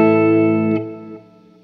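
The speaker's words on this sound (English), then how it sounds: "It's an analog delay, super nice sounding." Electric guitar with an edge-of-breakup tone and a touch of spring reverb, played through a Jam Pedals Delay Llama analog delay: sustained chords that ring, then decay in soft repeating echoes, heard alone.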